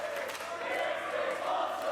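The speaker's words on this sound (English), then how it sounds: "the crowd is chanting that this is awesome" A wrestling crowd chanting in unison in an arena, a steady, fairly distant rhythmic roar of many voices with no other sound standing out.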